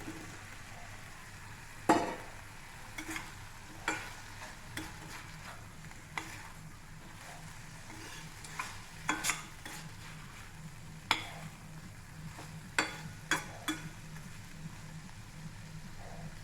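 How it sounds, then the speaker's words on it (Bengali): Pre-fried pointed gourd, potato and prawns in a pan give a quiet, steady sizzle, broken by intermittent sharp clacks of a utensil against the pan. "এবার আমি দিয়ে দেবো আগে থেকে ভেজে রাখা পটল, আলু আর চিংড়ি মাছটা।"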